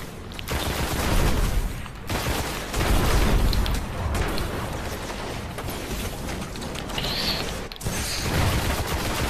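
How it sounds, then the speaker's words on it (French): Weapon reload in the Destiny video game: dense clattering mechanical clicks and metallic rattles mixed with gunfire-like bursts, loud and continuous, no talking. "On va recharger parce que sinon on va devoir recharger en plein combat."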